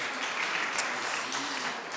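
Audience applause at an industry event on industrial renaissance and impact, a soft, distant wash of many hands clapping at an even level with no voices over it.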